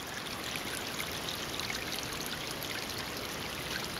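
Rainwater from Hurricane Irene rushing steadily through a farm swale, a continuous broadband wash of flowing water at close range with no voices.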